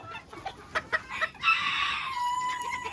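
Hens clucking in a farm pen, including bearded-beak and earring-type breeds, with a series of short close clucks followed by a sustained, loud crowing-like call.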